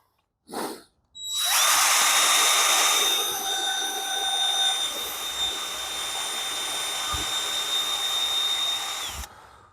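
A power drill strips paint during car body work. After a brief opening burst, it spins up into a loud, steady, close whine that holds for about eight seconds before cutting off.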